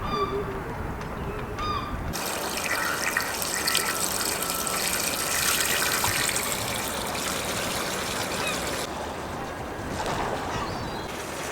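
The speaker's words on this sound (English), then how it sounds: "I think I'm going to fill the water tank" Water runs into a sailboat's onboard water tank at a dock, a close, steady gushing hiss that begins after a brief quieter moment and continues evenly to the end.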